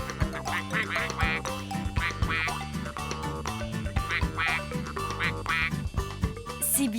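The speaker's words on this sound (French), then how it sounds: "Les canards sont partis. Pourtant, je les entends toujours." Cartoon ducks quack repeatedly in lively bursts over bright background music, some calls loud and near, others quieter, with a rhythmic, bouncy pattern throughout.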